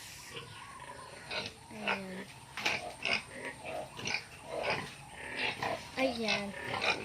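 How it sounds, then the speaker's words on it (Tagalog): Pigs on a rural family farm after rain, grunting and squealing in irregular bursts at close range, while a person talks over them throughout. "So itong mga baboy namin."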